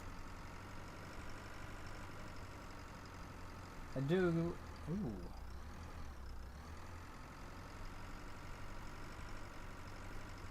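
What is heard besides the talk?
tractor engine idling in the video game Pure Farming 2018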